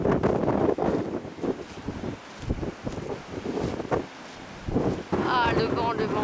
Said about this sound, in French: Ah, le vent, le vent.